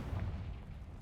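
A Confringo blasting curse goes off in a Harry Potter video game: a single muffled, low booming burst that rumbles briefly and fairly faintly, with no talk over it.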